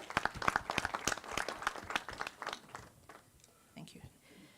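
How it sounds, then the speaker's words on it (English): Attendees at a municipal annual general meeting clap their hands, a fairly faint, uneven burst of clapping that thins out after a few seconds, with a voice speaking near the end. "I will ask that we clap our hands again for this 30-year milestone"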